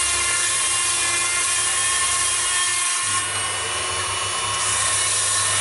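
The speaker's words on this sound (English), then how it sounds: "you simply let the rod turn on a rod building bench, for example, and go in with the diamond grinder" A diamond grinder working the tip of a solid graphite fishing rod as it turns on a rod building bench, a high, steady whine with a constant grinding hiss that briefly dips and shifts, close and continuous, with no talking.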